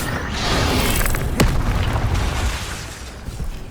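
Incendio fire spell in Hogwarts Legacy on PS5 erupts as a broad, roaring whoosh of flame with a sharp crack in the middle, loud and sustained without speech.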